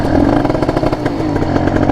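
A motorcycle engine revs steadily at around 5,000–6,000 RPM during a starting practice, giving a loud, continuous buzzing drone with a slightly uneven pulse and no talk over it.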